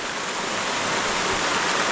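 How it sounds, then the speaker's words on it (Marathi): Steady rain shower falling in a village, a dense even hiss that holds throughout with no voices. "गावाकडे सध्या असा पाऊस सुरू आहे"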